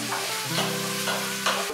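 Diced onion hisses and sizzles in hot oil while a wooden spoon pushes it around the pan, a close, steady frying crackle with soft scraping strokes and no speech.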